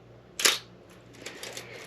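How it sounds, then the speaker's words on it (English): An old film camera shutter fires once at 1/250 second with a sharp close mechanical click, followed by a few faint softer clicks of the mechanism in a quiet room. "let's go down from 500th down to 250th. You should start to actually hear the difference in the shutter speeds"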